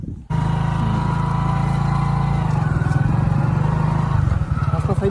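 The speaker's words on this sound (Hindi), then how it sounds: "अभी खेत जुते हैं तो उनके ऊपर कैसे बाइक चलाती जाती है" A motorbike rides across freshly ploughed farm fields, its engine droning loud and steady close by for several seconds, with a slight dip and change in pitch near the end.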